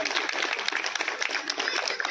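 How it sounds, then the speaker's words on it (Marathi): An audience claps for a guest at a women's association gathering, a steady patter of many hands at moderate distance, continuous for a couple of seconds. "एकदा त्यांच्यासाठी टाळ्या झाल्या पाहिजे."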